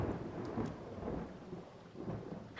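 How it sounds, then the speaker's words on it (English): A thunderstorm rumbles with low rolling thunder over a steady wash of rain, the deep booms swelling and fading at moderate loudness with no talking. "Oh, there's rain."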